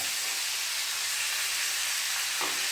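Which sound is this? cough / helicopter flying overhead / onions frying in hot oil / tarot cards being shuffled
onions frying in hot oil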